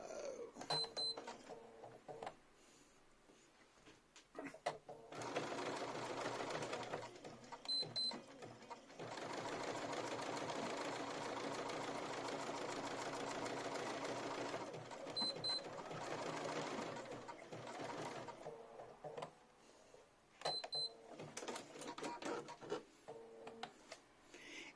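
Electronic sewing machine stitching lace motifs, its rapid mechanical chatter running in several long bursts separated by brief pauses with small clicks and soft handling sounds, close and steady.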